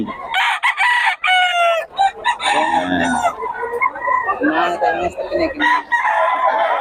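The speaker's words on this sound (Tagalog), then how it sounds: "Akala nyo lang mahal yung manok ni Boss Perry, pero natatawaran niya." A rooster crows repeatedly up close, loud and raspy, with other fowl clucking and calling around it.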